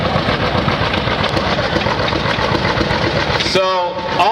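Vintage tractor at a county fair idling with a steady, rough low chug close by, under ongoing talk, before a short pause as it is shifted into reverse.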